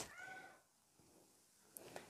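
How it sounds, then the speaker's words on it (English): A pet cat meows faintly indoors during a painting session, one drawn-out call at the start followed by short quieter chirps near the end. "If you hear something meowing, it's my cat"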